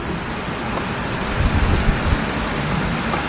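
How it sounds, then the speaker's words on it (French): Heavy rain pours down steadily in a violent thunderstorm in Gironde, France, as a dense, continuous hiss with a low rumble of thunder swelling briefly in the middle. "Oh, il commence à pleuvoir très fort."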